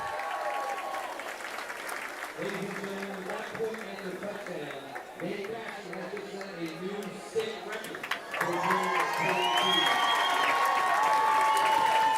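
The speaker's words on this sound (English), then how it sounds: "It's a round of applause from the crowd." Crowd at a high school football game between Egg Harbor Township and Mainland applauding a kicker's career record, clapping and cheering under a commentator's voice that carries through the middle, with the crowd noise swelling louder at the end.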